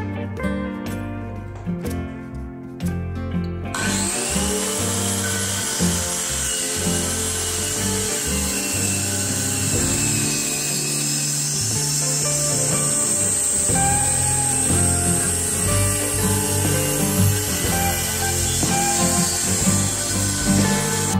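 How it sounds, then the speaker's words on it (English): A circular saw, mounted as a simple table saw, cutting through a wooden worktop: a loud, steady whining drone sustained for about twenty seconds after a rough start. "Cut through the worktop."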